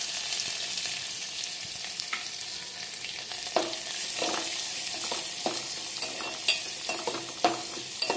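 Fenugreek seeds, dried red chillies and finely chopped onions fry for rasam, a steady sizzle with a scattering of sharp stirring clicks and scrapes of the spoon against the pan, moderately close, with no voices.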